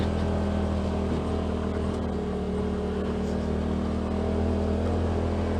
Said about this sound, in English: that's low gear and low RPMs and low miles per hour, you know, crawling